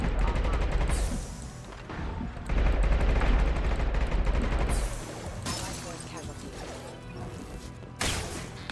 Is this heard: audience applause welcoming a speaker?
no